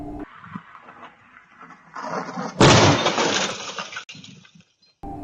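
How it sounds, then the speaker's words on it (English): A speeding car crashes into the back of a parked car on a residential street in Chicago: a sudden loud crash with shattering glass bursts out after quieter street noise, then fades into a short rattle. "a vehicle is driving way too fast down a residential neighborhood before crashing into the back of a parked vehicle"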